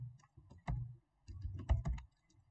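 Bursts of keystrokes on a computer keyboard, typed in two quick clusters with a short pause between them, close and fairly quiet with no talking.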